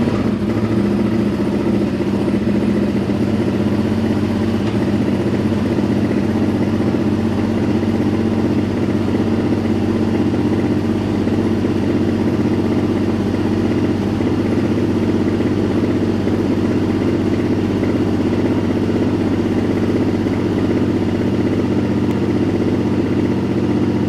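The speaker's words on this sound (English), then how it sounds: "let's start the bike up" A Honda Transalp XL750 motorcycle engine starts and settles into a steady, loud idle, with a low even rumble running throughout and nobody speaking.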